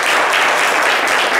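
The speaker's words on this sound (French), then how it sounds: "Et vous allez l'applaudir, s'il vous plaît." Brief burst of loud, dense applause from a studio audience at a French variety show, full and continuous with no speech on top.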